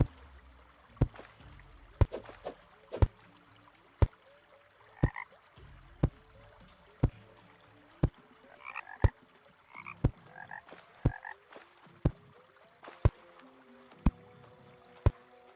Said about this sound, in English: Yeah, I did hear a frog.